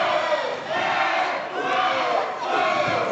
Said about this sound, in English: You can hear fans here in Houston Premier getting really behind every shot